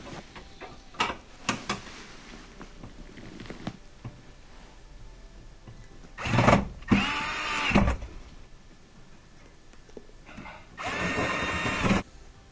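A power driver sets Phillips head screws into a Whirlpool range hood cowling, with two short bursts of whirring plus a third burst later, among light clicks and taps.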